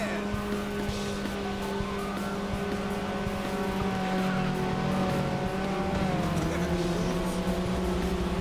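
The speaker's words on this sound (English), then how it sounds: "Someone fired off some nitrous." Race car engine in Ridge Racer 6, a steady loud drone with rising pitch as the car surges on a nitrous boost, with faint tire squeal and game music throughout.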